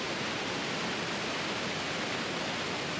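Texolo Waterfall in Xico, Veracruz, Mexico, a constant broadband roar of falling water, dense and unbroken throughout with no voices.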